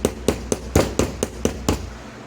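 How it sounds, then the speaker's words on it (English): Light hammer taps on a brass rivet in a Viking knife, ten sharp metallic strikes in a quick, even rhythm, close and clear with no talking. "hold the hammer kind of high up and just kind of hammer away lightly"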